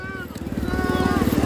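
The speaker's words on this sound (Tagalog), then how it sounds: "May tricycle man sa dagat." A motorized tricycle drives along the sand at Matabungkay beach, its engine a steady, pulsing putter that builds slightly closer and louder over a short stretch, with people talking over it.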